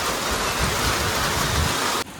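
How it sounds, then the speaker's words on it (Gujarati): Heavy rain pours down at a village fair in Kathkot, a dense, loud, unbroken roar that cuts off abruptly just before the end. "અહીંયા તો ફૂલ વરસાદ છે"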